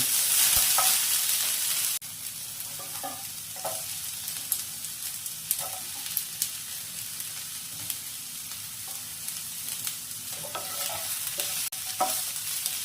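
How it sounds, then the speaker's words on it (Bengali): Onions and capsicum frying in a pan for chilli baby corn, a soft continuous sizzle broken by repeated spatula stirs and scrapes, close and fairly quiet with no talking. "পেঁয়াজগুলো একটু ভাজা ভাজা হয়ে গেলে দিয়ে দেব ক্যাপসিকাম"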